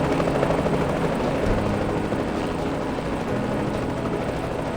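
A helicopter hovering in the video game Reverse 1999, its rotor and engine roar loud, close and continuous throughout with no talk.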